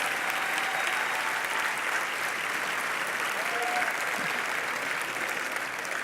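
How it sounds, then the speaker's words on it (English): A large town hall audience claps in steady, dense applause for congressional fellows, continuous and fairly loud throughout with a faint murmur of voices underneath. "Let's give them all a big round of applause."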